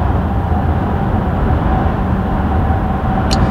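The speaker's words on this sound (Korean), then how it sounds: "풍절음도 제가 보기에는 그렇게 나쁘지가 않습니다." Inside a Hyundai Staria nine-seat van driving through a tunnel, a loud, steady roar of wind and road noise fills the cabin without a break, and a faint high chirp sounds near the end.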